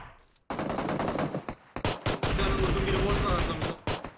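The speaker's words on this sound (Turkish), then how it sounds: "Bir headshot iki body vurdum o çocuğa." Rapid automatic gunfire from a ranked team match in a video game. Loud bursts are broken by short gaps and run almost the whole clip, with a voice faintly audible among the shots.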